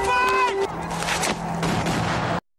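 A gunshot rings out in a film scene, a sharp report amid music and effects, with a tone sustained beneath before the sound cuts off abruptly.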